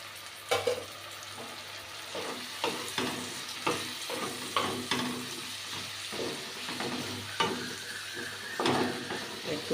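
Ground spices and Kashmiri chili frying in oil with a splash of water added, sizzling and bubbling close by while a utensil stirs and scrapes the pan in repeated strokes, with no talking.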